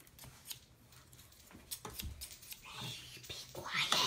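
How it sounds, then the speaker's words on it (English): Scissors cut through crafting material in a series of sharp snips and crisp crunches that grow louder toward the end, with faint whispering voices in the background. "And here's the scissors."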